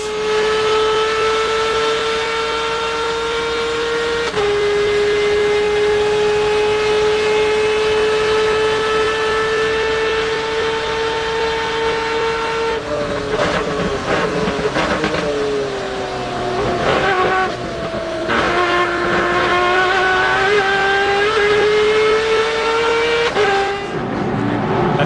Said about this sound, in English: listen to this screaming Mazda as this one's turning some RPM